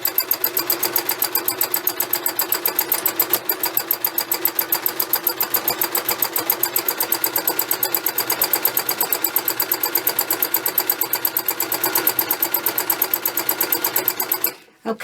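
A sewing machine stitches a zigzag around the edges of work on water dissolvable film, running fast and steady with rapid, even clatter close by. It stops abruptly just before the end.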